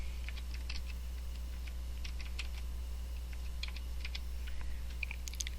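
Someone types a part name on a computer keyboard, with quick, irregular key clicks at close range over a low steady hum. No voices.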